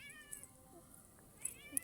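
A cat meows twice close by, a short cry at the start and another near the end, with quiet background between.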